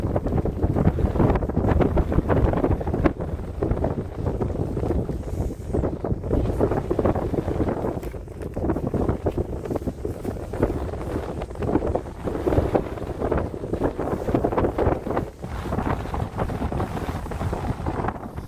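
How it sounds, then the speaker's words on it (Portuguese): Strong wind at Jericoacoara beach in Brazil roars and buffets the microphone in loud, continuous gusts, with no voices heard. "Jericoacoara é o lugar que tem mais vento no mundo"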